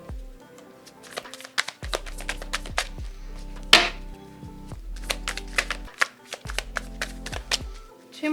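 Tarot and oracle cards being shuffled and drawn, giving repeated close papery riffles and soft taps in irregular bursts, with one louder flick partway through.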